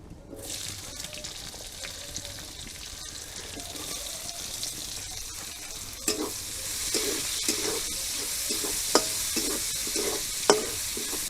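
Chopped onion fries in hot oil with a dry chilli and whole spices, a steady loud sizzle close by with occasional stirring scrapes and pops throughout.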